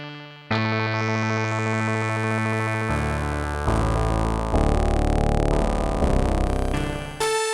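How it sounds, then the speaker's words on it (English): An Ensoniq ESQ-1 synthesizer plays a dirty, lo-fi filtered sound, sustained buzzy tones shifting through several chord changes, loud and upfront with no talking. "dirty lo-fi type sound, which is what I was going for"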